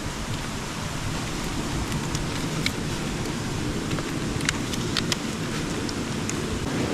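Rain falls steadily and evenly as a dense wash of hiss, with a few faint, scattered drips standing out near the end.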